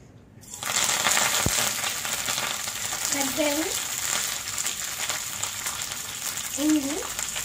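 Dry chilli, mustard seeds and cumin fry in ghee with a close, continuous sizzle and a scattering of light crackles throughout.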